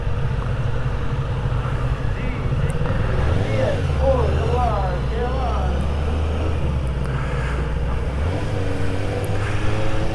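A Kawasaki ZX-4RR motorcycle being ridden, its engine a steady low drone that rises and falls with the throttle, mixed with wind rush, while a rider talks over it.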